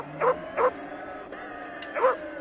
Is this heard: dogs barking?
yes